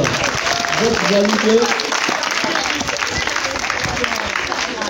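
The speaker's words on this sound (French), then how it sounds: "Applaudissez pour les autres" Students and onlookers at a French-language ranking announcement clap for the other students, a brisk crowd applause mixed with voices and chatter throughout.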